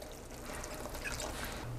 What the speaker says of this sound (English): So now I'm gonna stir in the crushed tomatoes.